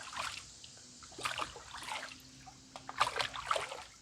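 Moving stream water is scooped into a soft backpacking water filter bag in a few quick swipes, each one a faint splashing trickle with short gaps between them.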